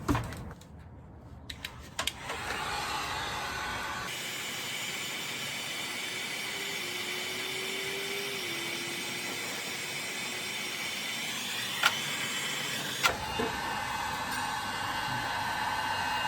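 A heat gun warms the back of a car dashboard with a steady, faint blowing hiss that holds for about nine seconds, with clicks and clunks of handling before and after.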